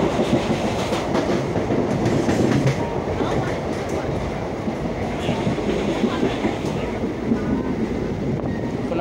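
A passenger train pulls into Tarapith Road station, its steady loud rumble and clattering wheels filling the whole stretch close by with no break.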